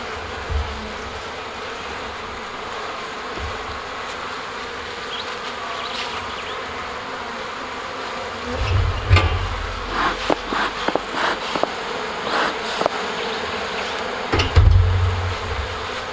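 Honey bees buzz around an open hive during a spring honey super inspection, a steady close drone with louder passes and a few low thumps near the microphone in the second half.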